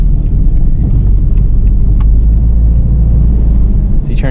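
A Subaru's engine rumbles steadily and loudly on a loose road as traction control engages, with a constant low drone and faint intermittent clicks and rattles over the top.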